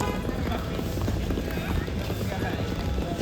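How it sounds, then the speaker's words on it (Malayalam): Hooves of bullocks pulling a cart clip-clop in a steady, dense rhythm close by, sounding alongside people talking throughout. "കാളവണ്ടി."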